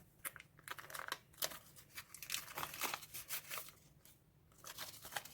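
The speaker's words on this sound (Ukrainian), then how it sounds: "Ні, чому цей пакетик рветься?" A perforated paper surprise packet tearing open in several close, crackly rips with crinkling between them, quite near, with no voices over it.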